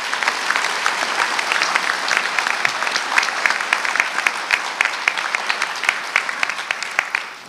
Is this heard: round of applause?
yes